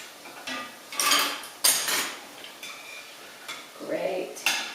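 Sopapillas fry in hot oil, giving soft sizzling broken by sharp utensil clinks and scrapes in irregular bursts. The sound is fairly quiet and close.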